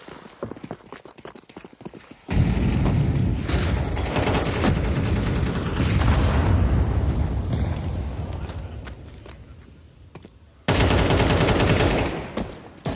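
Bursts of automatic gunfire from a competitive esports shooter match at a LAN finals event, loud and dense with sustained rapid volleys broken by a quieter stretch of scattered shots.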